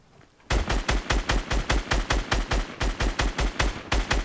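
Rapid automatic gunfire in the Fortnite video game, a loud, evenly spaced burst of about twenty shots that starts abruptly after a brief quiet moment and runs without pause, with no talk over it.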